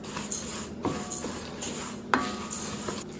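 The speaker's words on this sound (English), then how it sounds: "We're gonna give that a quick little stir to incorporate together" Dry flour, cinnamon, baking powder and salt stirred together in a bowl, giving soft scraping, rubbing strokes with a few light clinks of utensil on the bowl, close and quiet with no talking.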